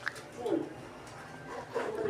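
A pet dog whimpers and gives soft yips in a home setting, thin whining tones rising and falling close by, while people talk quietly over it.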